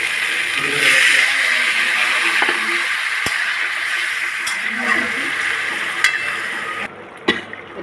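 Vegetable curry sizzles steadily in a pan as water is poured in, a bright continuous hiss with faint stirring clinks, easing off near the end.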